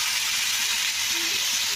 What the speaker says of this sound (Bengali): ভালো করে সবজিগুলোকে কিন্তু ভাজতে হবে